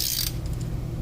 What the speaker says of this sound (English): There's my torque wrench. It's a click torque wrench.